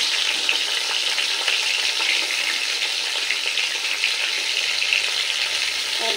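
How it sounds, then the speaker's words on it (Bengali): Eggplant pieces fry in hot oil in a home kitchen for a Bengali tangra fish curry, giving a loud, continuous close-up sizzle and crackle with no talking. "এবার এই তেলে বেগুন আর আলুগুলো ভেজে নিতে হবে। তো প্রথমে বেগুনগুলো ভেজে নেব।"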